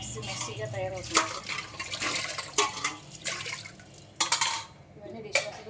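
Water splashes and runs over a kitchen item during a quick rinse, with clattering bursts and drips, while someone talks over the washing.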